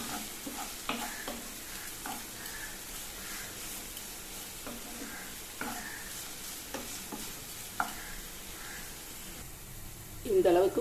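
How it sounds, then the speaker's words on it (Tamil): Pirandai (adamant creeper) sautés in a pan, giving a soft, steady sizzle with occasional stirring scrapes and clinks, fairly quiet throughout, with a louder knock near the end. "பிரண்டை நல்லா சுருண்டு கோல்டன் ப்ரௌன் கலர் அளவுக்கு வரணுங்க"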